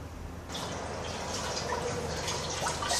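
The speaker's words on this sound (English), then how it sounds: "Swishing that through with some cold water." Cold water is swished around inside a pot that has sugar stuck to it. The liquid sloshes and drips close by for a few seconds, fairly quietly, with no voices.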